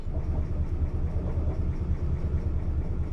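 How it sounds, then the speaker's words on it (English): A train rolls along in the video game Fear Equation, a steady low rumble with a faint rhythmic clatter, continuous and moderately loud. "there's the train"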